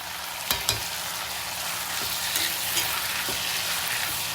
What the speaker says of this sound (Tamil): தக்காளி நல்லா வதங்கணும். இப்போ பாதி வதங்கிட்டு இருக்கும்போது இந்த பூண்டு வெங்காயத்துக்கு தேவையான உப்பு போடுறேன்